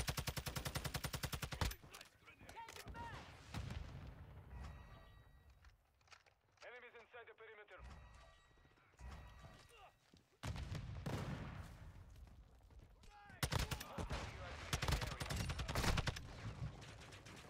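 Rapid bursts of Vel 46 submachine gun fire in Call of Duty MW2, loud, repeated volleys broken by short lulls, with a voice talking between the shots.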